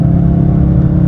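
A car engine held at high revs before a paddle shift, a loud steady droning hum lasting about a second with no talking.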